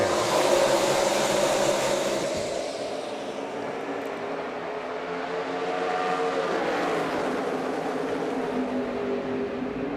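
A pack of NASCAR race cars roaring away at the green-flag start of the Sprint All-Star race, a loud, dense, continuous engine drone from a distance that swells and shifts as the field passes.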